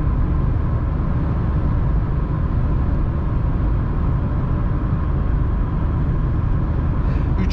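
A Renault Symbol with a 0.9 TCe engine pulls uphill in fifth gear at around 120 km/h, a steady loud engine drone with road and wind rumble inside the car, continuous and unbroken.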